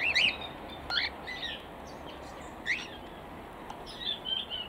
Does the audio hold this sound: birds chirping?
yes